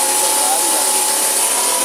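A power tool polishing a marble stone surface gives a steady, loud high-pitched whine and hiss throughout, with no talking.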